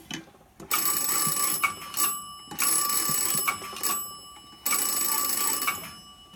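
An old telephone bell rings at 120 hertz in long, loud bursts with brief pauses between, a harsh metallic jangle repeating three times.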